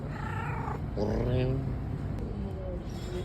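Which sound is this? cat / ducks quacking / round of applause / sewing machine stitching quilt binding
cat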